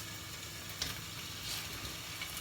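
Duck pieces laid skin-side down sizzle steadily in a hot frying pan, a soft continuous hiss with faint crackles and no voices.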